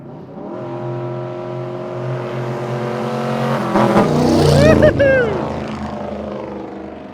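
A 1957 Chevy wagon engine drones steadily, then rises in pitch as it revs hard, peaking loudly before easing back down; close and sustained.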